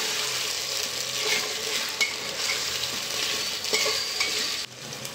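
Corn, peas and chickpeas are stir-fried in a pan for basmati pulao, a constant close sizzle with occasional clinks and scrapes of a spoon, ending in a sudden drop in volume; nobody speaks.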